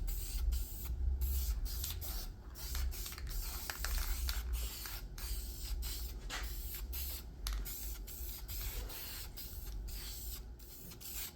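Bursts of spray paint hiss from an aerosol can coating a welded steel square, repeated short sprays with brief pauses and can rattles between them, close to the microphone and without talking.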